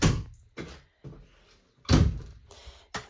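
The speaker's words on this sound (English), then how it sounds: "this door opens up into the mid-tack as well" Door of a 2013 Featherlite 8581 four-horse living-quarters trailer opening into the mid-tack area: a series of hollow thunks and clunks, each fading quickly, close by.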